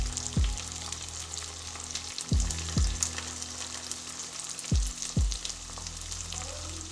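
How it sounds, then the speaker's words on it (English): Zucchini slices frying slowly in a frying pan, a soft steady sizzle broken by five quick spatula scrapes against the pan, close by, with no voices. "The zucchini started to fry slowly."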